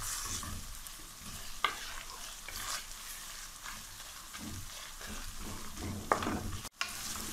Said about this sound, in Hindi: अदरक को भी इसी तरह पकाएंगे कि अच्छी सी इसकी खुशबू आना शुरू हो जाए